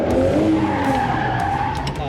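Car drifting in a Georgian drift session, a loud, sustained tire skid with engine roar throughout, under a voice speaking.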